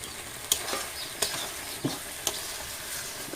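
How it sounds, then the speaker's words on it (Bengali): Fried giant freshwater prawns are stirred with spices and milk in a pan, a faint sizzle punctuated by four distinct spatula scrapes at roughly even intervals, close and without talk. "চিংড়িটার সাথে মশলাটাকে ভালোভাবে কষিয়ে নেবো"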